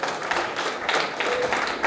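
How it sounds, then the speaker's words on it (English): An audience at a press club induction ceremony applauds, a dense patter of many hands clapping at moderate level for a couple of seconds, steady with slight surges. "Please give him a big round of applause."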